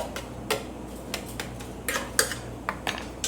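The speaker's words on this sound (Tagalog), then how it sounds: "So just mash it." A very ripe avocado is mashed in a culinary class demonstration, giving a steady run of light clinks and soft taps of a utensil against a dish, close up and quiet, with no talking.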